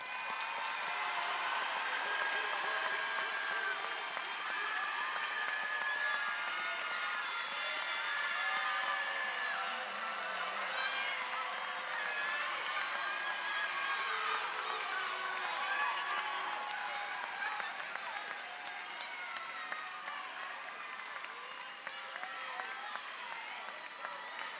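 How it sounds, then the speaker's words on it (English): Sustained crowd applause for graduates at the Ridge Spring-Monetta High School 2023 graduation ceremony, a broad steady roar of clapping and cheering with scattered voices and tonal sounds mixed in, tapering slightly near the end. "Let's give all of our graduates one big round of applause."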